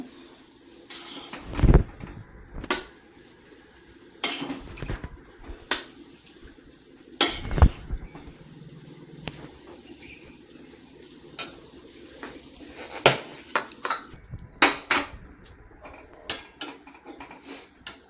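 Peanut amti is ladled out of a pot, giving scattered metallic clanks and scrapes of ladle against pot, some sharp and loud, with quiet gaps and faint liquid sounds between.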